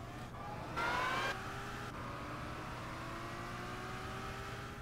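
The VW W12 Nardo from 2001 accelerates steadily in Gran Turismo 6, a moderate whirring engine note climbing gradually, with a brief brighter burst early on and no talking.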